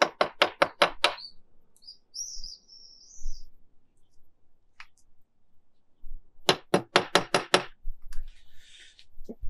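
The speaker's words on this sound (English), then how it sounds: "we're now going to put the plugs in for the fixing screws for the body" Wall plugs being tapped into drilled holes in a wall while fitting a rainwater downpipe diverter body: two close bursts of rapid, sharp knocks, around six each, separated by a quiet gap with a few small clicks.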